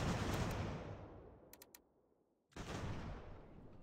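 Cannon and musket fire in the Ultimate General: American Revolution strategy game, a loud rolling volley of crackling shots fading out, a few quick sharp reports, then a sudden fresh burst of massed fire.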